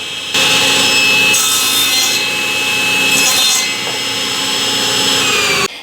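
A power saw cuts a slot through a mitered wood joint held in a jig for a spline, producing a loud, continuous high whining rasp heard up close, holding steady for several seconds before stopping abruptly.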